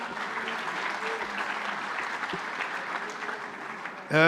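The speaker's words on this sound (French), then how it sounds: "je crois qu'on peut applaudir encore très fort Gilbert Belin" Applause from an audience at a sports awards ceremony, steady clapping with faint voices beneath, ending as a louder voice cuts in.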